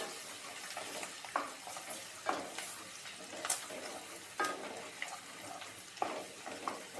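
Chopped garlic and ginger fry in a pan with a steady close sizzle, broken by several scraping stirs at irregular intervals.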